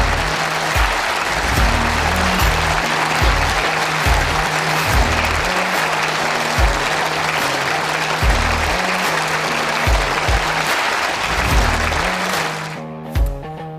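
Sustained, loud applause from an indoor bowls crowd for the mixed pairs world champions, continuous clapping under a rhythmic music track that plays throughout, with the clapping thinning out near the end.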